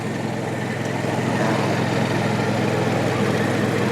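A Sato 16 hp riding lawn mower's engine runs steadily throughout, a continuous close, loud drone with a low, even hum and no voices over it.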